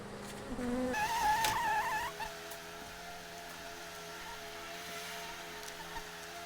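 Honeybees hum and buzz around an open beehive during a honey super frame check. A louder buzz passes close by early on, then a softer steady drone of the colony continues with no one speaking.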